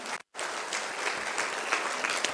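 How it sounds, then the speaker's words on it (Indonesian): A congregation at a morning prayer service claps together in sustained, dense applause, loud and close, broken by one very brief gap near the start before the clapping continues steadily. "Beri tepuk tangan untuk Tuhan"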